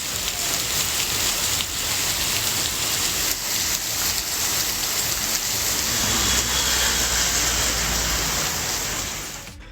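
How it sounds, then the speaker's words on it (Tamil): Heavy rain lashing down with strong wind in Arani, a dense, loud and steady roar of downpour that holds without a break. "ஆரணியில் பலத்த காற்றுடன் கூடிய கனமழை பெய்தது."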